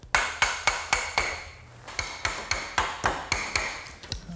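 A hammer taps a garden swing's hanging section onto an eye bolt, about a dozen sharp metallic knocks in a steady rhythm with one short pause, close and clear with no speech.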